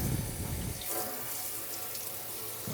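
Tap water runs steadily into a stainless steel sink as it is rinsed after cleaning, a continuous close splashing hiss with no talk over it.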